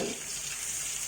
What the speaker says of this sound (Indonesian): Ini proses menggorengnya.